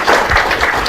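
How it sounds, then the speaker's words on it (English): An audience at a public science lecture applauds, a dense, steady wash of clapping, loud and close, with no pauses across the short stretch. "Give him a round of applause"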